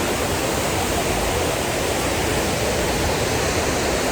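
Taytay Falls in Majayjay, Laguna pours down in a dense, unbroken roar of falling water, loud and close, steady from start to finish with no voices.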